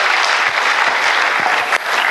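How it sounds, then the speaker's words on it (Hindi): Loud, dense applause from an audience at a Delhi success programme, continuous clapping from many people filling the space evenly with no voices over it. "तालियां बज गई"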